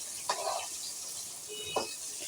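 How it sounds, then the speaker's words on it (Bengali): Food frying in a pan in a home kitchen, a soft continuous sizzle with two brief stirring scrapes. "কিছু আবার ভাজতেছি।"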